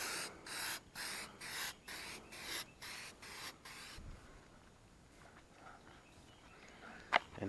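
An aerosol can sprays a vehicle's headlights, corner lights and taillights in a series of short, loud, regular hissing bursts for about four seconds, then quiet rustling and a single sharp click follow.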